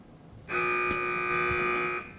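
A quiz game buzzer sounds once at a high-school quiz match, a single steady electronic tone lasting about a second and a half, loud and close, with no talk over it.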